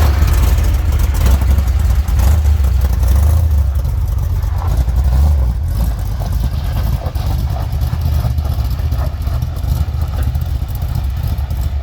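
An old black pickup truck drives along, its engine giving a loud, steady low rumble close to the microphone that eases slightly partway through, joined by faint voices.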